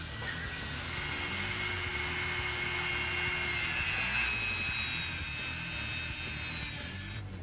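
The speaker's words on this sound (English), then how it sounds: "We're going to cut off the Schrader valve of the inner tube with a Dremel." A Dremel rotary tool cuts through the Schrader valve on a rubber inner tube, producing a steady high-pitched grinding whine that runs continuously for several seconds at close range, with no talk.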